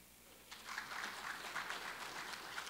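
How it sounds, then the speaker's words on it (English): Applause from an audience at a regional coconut meeting and training session in Grenada, a broad, steady wash of clapping that swells in after a moment and carries on evenly, moderately distant. "A round of applause for that"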